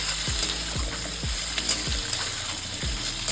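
Chopped onion with black cumin sizzles steadily in a hot pan, while a spatula scrapes and stirs in regular strokes about every half second.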